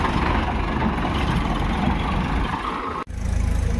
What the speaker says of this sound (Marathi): एक एक ट्रॅक्टर निघाला आता हे दोन ट्रॅक्टर आहे